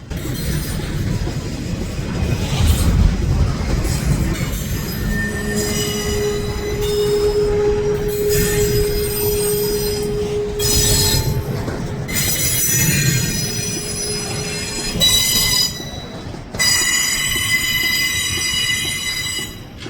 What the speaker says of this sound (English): We do catch this train again at a three-way meet between NS and CSX.